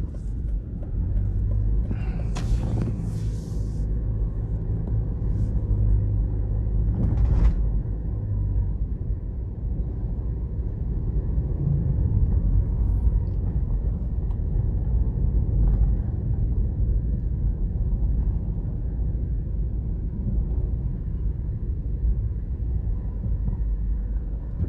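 Road traffic rumbles from inside a moving car in Jamaica, a steady low engine and tyre drone with a few louder passing whooshes early on.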